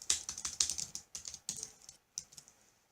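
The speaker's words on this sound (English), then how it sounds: "I could come over here and type some information and save it" Rapid typing on a computer keyboard, a close, crisp burst of keystrokes in quick runs with brief pauses, ending in a couple of isolated taps, with no voices.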